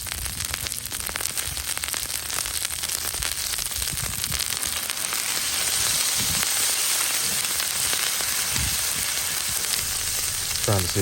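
Burger patties fry on a Blackstone griddle outdoors, giving a steady, dense sizzle and crackle throughout with a few scraping pops from a spatula.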